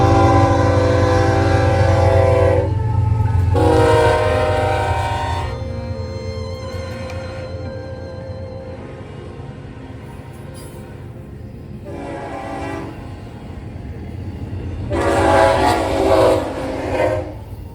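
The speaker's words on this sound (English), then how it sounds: "an eastbound tanker train and a westbound intermodal meeting" Freight trains rumble past close by as an eastbound tanker train meets a westbound intermodal on the BNSF Emporia Subdivision, with several loud horn blasts sounding at intervals over the steady roll of railcars.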